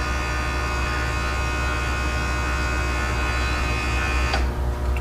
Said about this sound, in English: Let the pump kick off again.